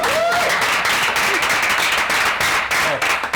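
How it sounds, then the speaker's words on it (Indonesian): Paid studio audience on an Indonesian television show applauding, a dense, steady wash of many hands clapping close by, continuous through the moment with faint voices mixed in. "Tepuk tangan buat teman-teman."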